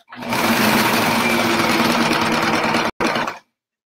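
A sewing machine stitches zigzag and straight seams on a pillow cover, a loud, close, rapid mechanical whir running steadily for about three seconds with one brief pause before stopping.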